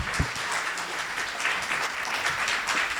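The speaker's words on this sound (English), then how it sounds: "I think the panel deserves a loud round of applause." An audience at an education conclave applauds a panel, a dense, even patter of clapping that fills the whole stretch at moderate loudness.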